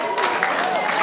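A crowd applauding at a live music performance just before a song begins, a steady dense wash of clapping lasting about a second with a voice faintly over it.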